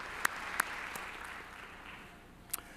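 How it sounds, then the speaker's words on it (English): An audience at a high school winter graduation ceremony claps in a steady, fairly soft wash of applause, with a few sharper individual claps standing out above the crowd. "Could we give them a round of applause?"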